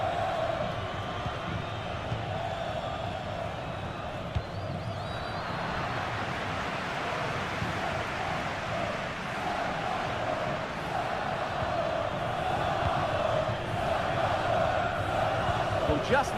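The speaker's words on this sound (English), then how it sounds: "Well, just listen to this crowd." A large stadium crowd roars continuously in a cyber football video game match, a broad, steady wash of cheering that swells slightly toward the end, under commentary.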